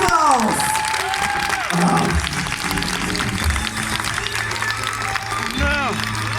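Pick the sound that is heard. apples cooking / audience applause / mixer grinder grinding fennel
audience applause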